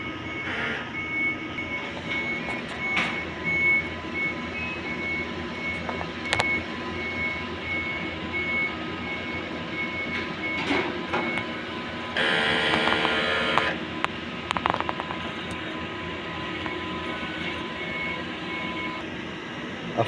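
A Smart 6 ft large-format inkjet printer runs a head-clean cycle, with steady mechanical whirring, a thin tonal whine, occasional clicks and a brief louder grinding burst partway through, close and with no talk.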